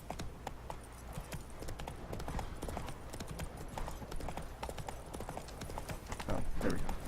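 Hooves of a galloping horse in The Witcher 3: Wild Hunt beat in a fast, even, close rhythm, steady throughout, with game ambience underneath and a louder flurry near the end.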